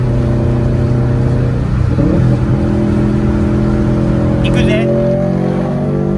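A modified car's engine and exhaust drone and rev loudly up close, the pitch climbing and shifting as it accelerates. A voice briefly calls out over the noise.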